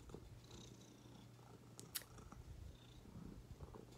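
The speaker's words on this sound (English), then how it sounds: "hopefully you just heard her purr right into the microphone" Close, quiet purring from a female cat held near a phone microphone, a low continuous rumble with occasional rubbing and handling noises, one sharp click in the middle.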